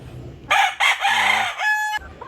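A rooster crows once, loud and close, a single full cock-a-doodle-doo with a rising start and a long held final note.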